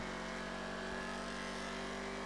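A car in GTA 5 accelerates with a steady, sustained engine drone that holds fairly constant pitch and stays at moderate volume, with no speech over it.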